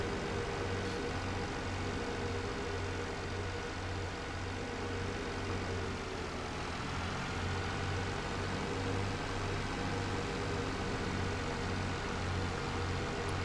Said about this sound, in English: With our new powerful vine tractor.